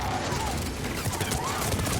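Rapid enemy turret gunfire in Mass Effect 3, a dense uninterrupted stream of automatic shots for two seconds, loud and close, with faint voices beneath.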